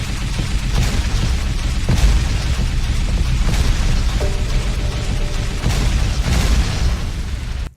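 Berserker missiles launching and detonating in a space combat video game, heard as a loud, continuous roar of booming blasts and bursts, with sharper explosive hits recurring every second or so throughout.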